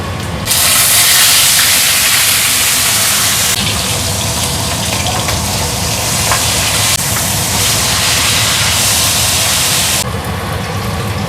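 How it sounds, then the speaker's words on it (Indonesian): Fish fries in a pan with a loud, continuous sizzling hiss that holds steady throughout, close up and alone, easing slightly near the end. "ini nyonya ya, goreng ikan"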